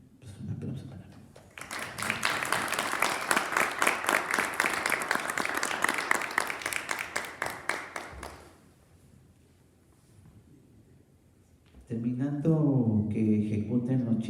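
An audience applauds at the close of a ballet lecture, a dense, steady burst of clapping for about seven seconds that fades out, then a voice begins speaking.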